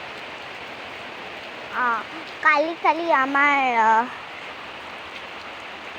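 Steady rain falling, a soft, even hiss underneath that continues throughout while a person speaks briefly in the middle.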